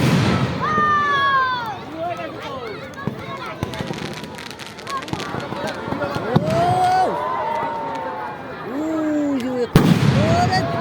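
Fireworks going off at a crowded night celebration, bursts and crackles rolling on throughout under steady crowd noise and people talking, with one sharp loud bang near the end.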